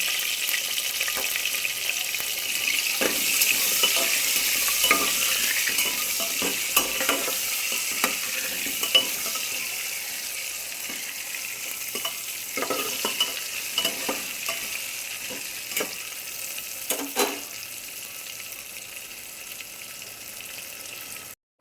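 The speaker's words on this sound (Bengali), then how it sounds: "আলু ভাজা হচ্ছে" Potatoes with turmeric and salt fry in hot oil, producing a steady close sizzle broken by repeated clattering stirs and scrapes of a spatula against the pan throughout.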